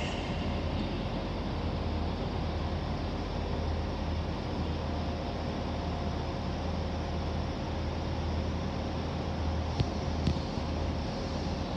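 A steady, continuous rumble of a moving train at Liverpool Lime Street station, droning evenly throughout with a faint click or two near the end.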